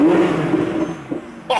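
A Ferrari 488 Pista's warm engine blips in a brief rev that rises and then settles back to a strong, throaty idle, loud and close, with a short sharp burst right at the end.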